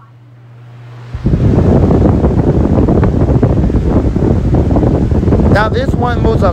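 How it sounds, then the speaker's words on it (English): An 18-inch TPI industrial floor fan switches on after a moment of low hum and settles into a loud, steady rush of moving air, with a voice briefly heard near the end. "Now this one moves a crap load of air, just like the 2021 model does, but it's not as loud like the other one"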